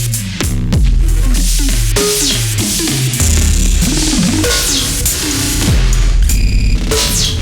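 An Elektron Octatrack, Eurorack modular and Analog Rytm MK2 play together in a loud electronic patch, with punchy kick drums, deep bass, metallic percussion and warbling synth tones in a busy, layered groove.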